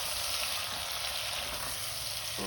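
Tomatoes fry in a hot pan for an aloo baingan sabzi, giving a steady close hiss of sizzling oil that holds at an even level throughout.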